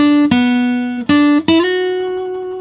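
A short acoustic guitar lick from a song: three or four bright plucked notes joined by slides, with the last note left to ring. Close and clear, with no voices.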